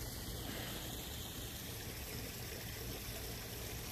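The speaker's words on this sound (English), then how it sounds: "That's not a river, it's a creek, but it's between our yards." A small creek about four feet wide and a foot deep flows between backyards, giving a soft, steady trickling wash of water that stays even and faint throughout, with no voices.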